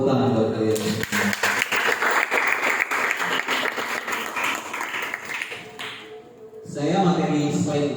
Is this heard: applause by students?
yes